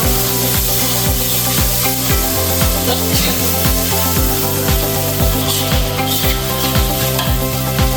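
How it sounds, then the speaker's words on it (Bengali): Tomato paste is stir-fried into a Bangladeshi tilapia tomato curry, a loud close sizzle carrying a rapid, regular run of spatula scrapes and knocks against the pan, continuing without pause and with no talking. "এখন দিয়ে দেব টমেটো পেস্ট ভালো করে কষাবো"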